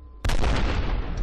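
A single loud gunshot in the video game F.E.A.R. bursts out abruptly after a brief quiet moment, followed by a booming, slowly fading tail.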